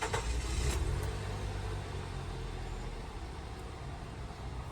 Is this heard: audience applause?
no